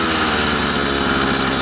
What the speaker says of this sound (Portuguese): Dá uma acelerada a moto aí